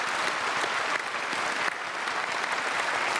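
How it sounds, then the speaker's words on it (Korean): A church congregation at a special early-morning service applauding, dense sustained clapping from many people filling the room at an even level throughout. "우리 또 박수로 격려하고 축복하겠습니다"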